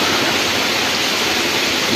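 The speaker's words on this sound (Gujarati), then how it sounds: "બહાર વરસાદ પણ બહુ પડે છે" Heavy rain falls steadily outside, a dense hiss with no talking.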